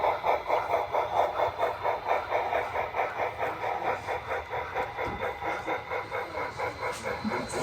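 A small model train hums and clatters along continuously in a rhythmic pulsing loop, steady and fairly close, with no voices.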